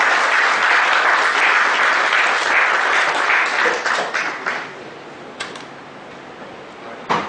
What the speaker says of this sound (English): Let's thank the speaker with a round of applause.